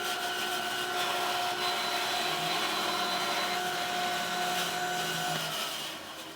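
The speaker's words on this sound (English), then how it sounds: "Now the next step is to slice a cut halfway through to the adjustment slider." A bandsaw cuts halfway through a wooden circle-cutting sled as far as its adjustment slider, making a steady close whirring drone with a faint tonal hum that softens near the end, with no voices.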